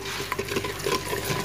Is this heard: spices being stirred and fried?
yes